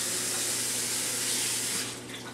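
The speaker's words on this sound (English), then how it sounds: "I'm going to wash my hands." A kitchen tap running steadily into a sink as hands are washed, a close continuous rush of water that eases slightly near the end.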